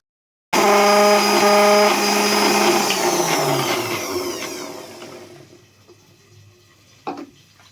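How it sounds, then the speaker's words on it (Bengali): Tomato, green chili and ground coriander whirring into a paste in a kitchen mixer grinder, a loud steady motor roar that starts abruptly, winds down over several seconds and stops, followed by a brief clunk. "একটা পেস্ট এতে রয়েছে টমেটো একটা কাঁচা লঙ্কা আর রয়েছে ধনে গুঁড়ো এই দিয়ে একটা আমরা পেস্ট করে নিচ্ছি"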